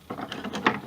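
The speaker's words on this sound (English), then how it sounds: "This is a stubby ratchet that the head swivels" A stubby swivel-head ratchet clicking, a quick run of about six small metallic ticks close by, alone with no talk.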